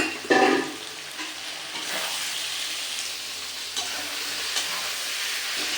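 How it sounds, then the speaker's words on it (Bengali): Pre-fried cauliflower is added to hot oil for a cauliflower rezala, opening with a sharp burst of sizzle that settles into a steady, loud frying hiss with faint stirring. "এই যে ফুলকপি আগে থেকে ফ্রাই করে রেখেছিলাম এটা আমি এটার মধ্যে অ্যাড করে দেব"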